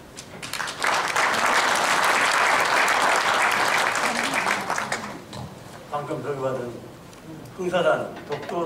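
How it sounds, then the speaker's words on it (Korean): An audience applauds a professor after a history lecture on a Dokdo document: dense, loud clapping for about four seconds that fades out, followed by someone speaking into a microphone. "박수를 한번 드리겠습니다."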